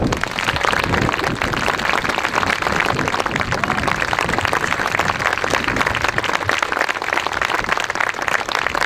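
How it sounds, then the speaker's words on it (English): A crowd at a 2011 Veterans' Day ceremony in North Reading gives loud, sustained applause for the veterans present, a dense, close roar of clapping that holds steady throughout. "please give a warm round of applause for all of the veterans present here today"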